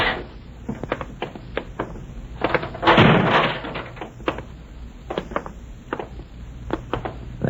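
Fire door in a radio drama being pushed open and slammed shut, a heavy clattering bang standing out amid a series of sharp knocks and footfall-like thumps, close and loud, with no voices.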